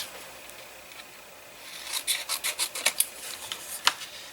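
Card being trimmed for a magic window card, a quiet run of about a dozen short rasping scrapes in quick rhythm, close up with no talk.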